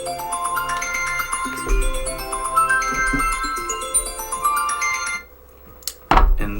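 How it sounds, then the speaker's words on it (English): A phone alarm ringtone plays a bright, melodic electronic tune over a low bass pulse, loud and continuous for about five seconds before it cuts off, followed by a brief loud burst. "And that was my alarm."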